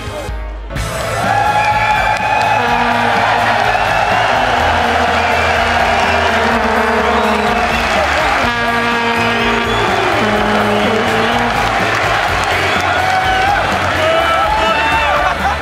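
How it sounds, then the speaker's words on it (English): Large esports crowd at a League of Legends EU LCS summer match in London cheering and chanting, a loud sustained roar with rising whoops throughout, dense and close. "as you can hear, the audience just brings a whole level of energy"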